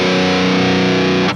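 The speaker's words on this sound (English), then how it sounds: "giving it kind of like a fuzzy distortion in the low end, which is not very pleasant, and it doesn't have any attack" Electric guitar tone with fuzzy, unpleasant distortion in the low end and no attack, a loud sustained buzzing chord that rings steadily and then cuts off.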